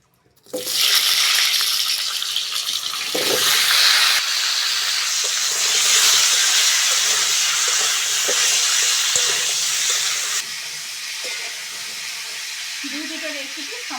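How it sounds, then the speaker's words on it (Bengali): Potatoes for aloo dum fry in oil in a covered pan, a loud, steady hiss and sizzle running for about ten seconds before dropping to a quieter sizzle, with a brief faint voice near the end. "প্রথমে আলুটা ভেজে নেব"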